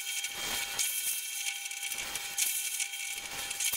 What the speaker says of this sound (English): So I can go and drill those ones out.